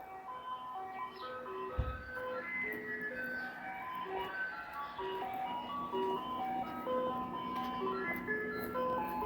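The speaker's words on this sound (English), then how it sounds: "And that is an ice cream truck up ahead." Ice cream truck on a residential street in Toronto's Dovercourt Village, its jingle of tinkling melody notes playing continuously at a moderate distance, with a low traffic rumble and a brief thump underneath.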